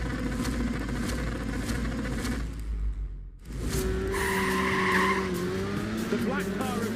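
Race cars launch away from the start of a televised race, engines and tyres squealing loudly with a brief dropout midway, followed by rising engine tones as the field pulls away, with commentary-like voices underneath.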